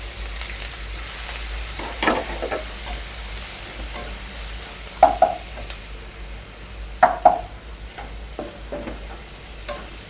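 Chopped onion frying with a pinch of asafoetida for a cabbage and potato curry, a low sizzle broken by a few distinct clattering stirs of a spoon against the pan, near and without speech.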